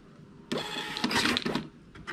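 A wifi receipt printer feeds and prints a receipt, a brief burst of whirring, buzzing mechanical noise that starts suddenly, swells and fades over about two seconds, up close with no talk.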